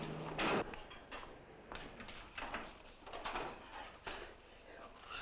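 Wooden or metal doors shut in quick succession during a getaway from a plant robbery, several sharp thuds and bangs spread across a few seconds with muffled background noise.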